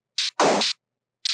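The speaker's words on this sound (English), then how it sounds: "the one sound that's like the perk sound, it's literally a Looperman loop." An original Looperman loop sample used as a perk sound in a song: short, clipped bursts of bright, noisy, percussive texture separated by silence, one longer swishing hit in the middle, all close and dry.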